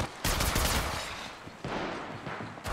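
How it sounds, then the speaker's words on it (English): Gunfire in the mobile battle royale game Apex Legends Mobile, a sustained burst of rapid shots with a brief lull and then another run of firing, loud and close with no talk. "Shots fired at me."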